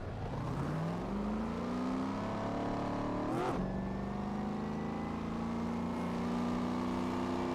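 Race cars pulling off pit lane at Daytona in the iRacing sim, engines climbing steadily in pitch as they accelerate, with a brief whooshing pass midway, loud and continuous throughout.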